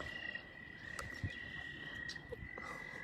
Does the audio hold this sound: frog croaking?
yes